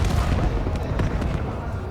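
Grenades exploding near an 18-wheeler in Call of Duty Black Ops 7 during an esports match; deep booms and rumbling blasts, loud and dense, blending with background battle noise over two seconds.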